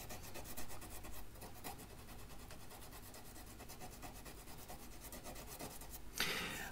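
Rubbing with folded abrasive paper in the string slots of a guitar nut during a nut replacement: a steady, soft scratchy rasping repeated close by, with a brighter scrape near the end.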